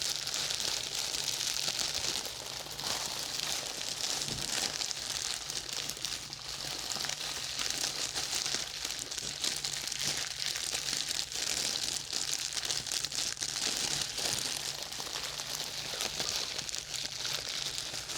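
A plastic bag crinkles around a loaf of wholemeal bread, close and steady for the whole stretch, with dense crackling texture and no talking.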